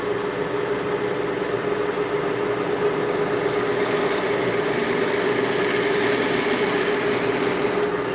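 A wood lathe spins at about 900 RPM during woodturning, giving a continuous, loud, steady motor hum with a constant tone and no breaks.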